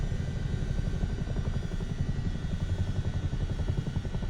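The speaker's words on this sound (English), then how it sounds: "Imagine these people below just having this massive Chinook just hovering over the flats" A massive Chinook helicopter hovering over flats in Microsoft Flight Simulator 2024, a loud, steady, rapid low rotor thudding that stays constant throughout, with no voices.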